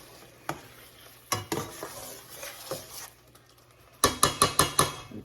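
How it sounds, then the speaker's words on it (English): Gnocchi bubbling in a simple butter sauce in a pan, with a soft sizzle under scattered spoon scrapes and stirring knocks, ending in a quick run of sharp metallic taps against the pan. "let it simmer in the butter"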